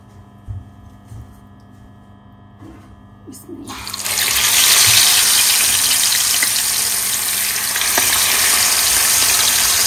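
Fish coated in salt and turmeric drops into hot oil and bursts into a loud, steady, close sizzle that continues unbroken after a few quiet kitchen knocks.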